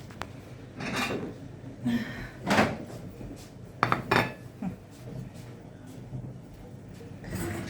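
Plates and cutlery clink and scrape on a birthday table, with scattered close taps, clatters and rattles at irregular intervals and a quiet room in the background.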